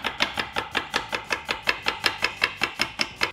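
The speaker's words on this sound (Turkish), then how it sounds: "Son olarak da içerisine bir adet kuru soğan doğrayacağım." A knife chops a dry onion on a cutting board in quick, even strokes, about fifteen sharp taps in a steady rhythm, close and clear with no talking.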